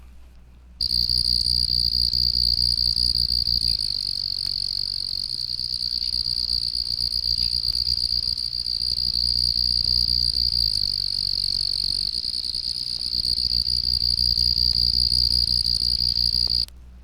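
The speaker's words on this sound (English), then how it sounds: "It has a very rapid, pulsating trill, and like all the ground crickets, sings both day and night." A Carolina ground cricket sings a continuous, very rapid pulsating trill, loud and close, holding steadily for about sixteen seconds with no other sounds around it.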